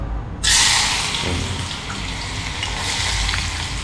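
Chopped onion hitting a hot pan, with a sudden loud hiss that swells in and then settles into a steady close sizzle with no voices.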